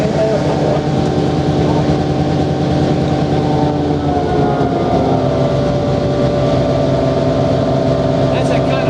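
A Durbin & Greenbrier railroad train on the Tygart Flyer run near Elkins, West Virginia, rumbles steadily with a sustained mechanical whine layered over the loud, continuous drone of the moving cars.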